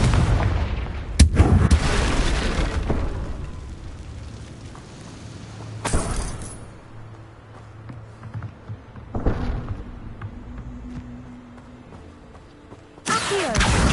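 Confringo blasting spell explosions in the video game Hogwarts Legacy: several loud, sharp booms spread over about fourteen seconds, each with a rumbling tail, separated by quieter stretches of low background noise; no speech.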